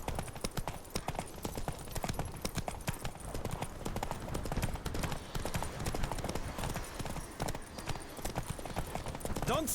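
Horse galloping in The Witcher 3 on Xbox One, a fast, steady clip-clop of hooves running continuously at moderate volume with game ambience around it.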